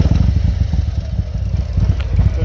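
A 2021 Harley-Davidson Road King with a 107ci engine and S&S 475 cam kit, already warm, fires up close by. It settles into a loud, lumpy, pulsing idle with a deep rumble throughout.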